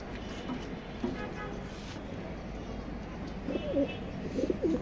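Male red checker racing pigeons coo in soft, repeated throaty phrases that grow more frequent toward the end, over a steady low background rumble.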